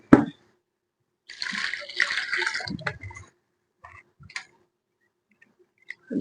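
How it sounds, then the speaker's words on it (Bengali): Biuli (urad) dal being washed in water inside a pressure cooker, with sloshing, swirling splashes and a few small clinks against the metal in separate bursts between quiet pauses, close by. "প্রেসার কুকার নিয়ে নিয়েছি, বিউলির ডালটাকে আরো একবার ধোবো।"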